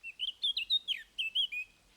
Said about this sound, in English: There's a flourish of gentle bird song, the most melodious, beautiful, harmonic bird song